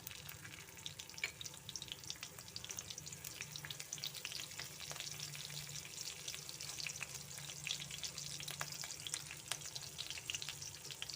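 Green chillies fry in hot oil with cumin seeds, crackling and spitting in a continuous, fairly quiet sizzle with tiny pops scattered across it. No one speaks over it.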